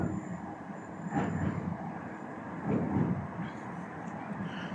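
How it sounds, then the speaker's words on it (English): An old Metrolink tram passing along Castlefield Viaduct, a steady low rumble of rail traffic with two swelling passes, heard from nearby in an outdoor urban setting. "The old metro link here going past."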